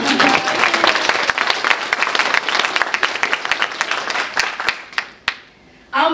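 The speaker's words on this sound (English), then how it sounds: "Please give yourself a round of applause for being here so early on a Friday in such an impressive way." Conference audience at Kennesaw State University applauding, dense loud clapping that holds steady for about five seconds before thinning into a few last claps and fading.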